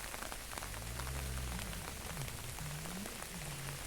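Fast-flowing floodwater of the River Don at Lower Sprotbrough, running over a submerged towpath, gives a steady broadband rush with a low rumble underneath, continuous and fairly loud throughout.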